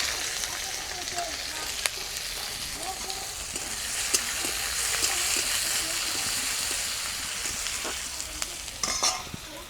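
Chopped onions with bay leaves, dried red chillies and nigella seeds sizzle steadily in hot oil, a continuous crackling hiss with occasional stirring clicks and scrapes, and no talk.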